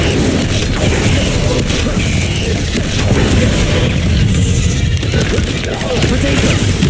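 The Incendio fire spell in Hogwarts Legacy gives a loud, continuous roaring blast of flame mixed with dense booming combat noise that stays dense and forceful throughout.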